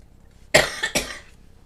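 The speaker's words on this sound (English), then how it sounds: "I just stopped to cough." Two sharp coughs in quick succession from one person, close and loud, followed by quiet.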